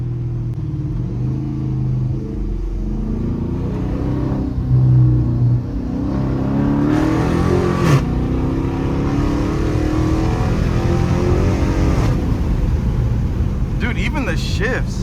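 Straight-piped Dodge Charger R/T widebody under hard acceleration, a loud, close, rising exhaust roar with audible gear shifts, while people talk excitedly over it.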